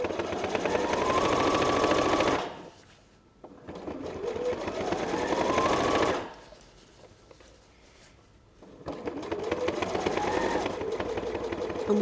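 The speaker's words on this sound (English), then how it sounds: "So I'm sewing along the front edge of the pouch to start with" Close, loud whirring runs of a sewing machine top-stitching along the front edge of a lined fabric pouch come in three bursts, with short quiet pauses between them.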